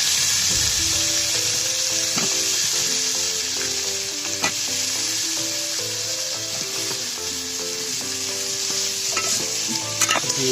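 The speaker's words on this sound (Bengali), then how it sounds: "এবার কেটে রাখা তরকারিটা সুন্দর মতো ধোয়া আছে, পানির বেশি রয়েছে, সেগুলো কড়াই ভিতরে দিই" Washed, still-wet cut vegetables (pumpkin lentil dumplings, potato, eggplant) hit hot oil with fried spices in a wok, giving a loud, steady sizzle with scraping stirs and occasional clinks throughout, no talk.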